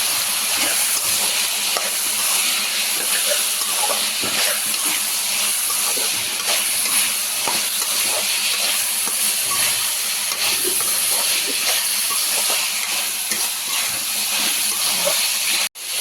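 Ivy gourd (dondakaya) frying in a pan with salt and turmeric, a steady loud hiss and sizzle of oil running continuously throughout with faint stirring scrapes, no voices.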